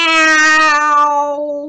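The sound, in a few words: voice imitating a cat meowing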